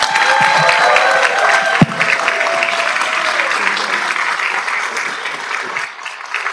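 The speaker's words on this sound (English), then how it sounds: "If we can please give him a round of applause" Council meeting audience applauding a city honoree in a chamber, steady dense clapping throughout with a brief louder clap near the middle, tapering slightly at the end.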